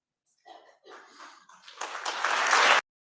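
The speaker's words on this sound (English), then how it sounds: "Oh, is that an applause moment?" Applause at a TEDx talk, starting as a few scattered claps and swelling over a couple of seconds into a loud, dense burst of clapping from the audience before cutting off abruptly.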